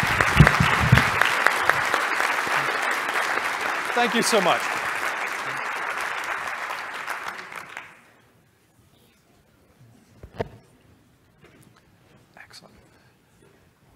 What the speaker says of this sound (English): give this group a huge round of applause.